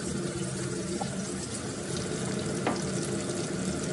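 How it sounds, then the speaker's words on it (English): Bacon frying in oil crackles and sizzles steadily in a pan, a close, continuous bed of fine popping with a couple of sharper spits and light scrapes. "Once the bacon is starting to be fried,"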